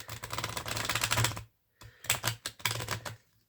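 Tarot cards from a This Might Hurt deck being shuffled by hand, a run of dense riffling rustle and clatter, a short pause, then two more quick bursts of shuffling up close.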